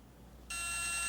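A multimeter set to continuity mode lets out one sudden, steady high-pitched electronic beep partway through and holds it loud and sustained, following a quiet room.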